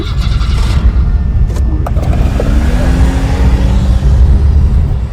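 A car moves along during a driving lesson, its engine and road rumble holding steady and close throughout with no voices.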